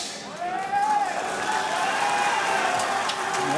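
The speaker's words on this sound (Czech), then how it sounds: "No a potlesk." A crowd at a boxing match applauds, a dense, continuous patter of clapping filling the hall at even strength, with a faint voice carrying over it.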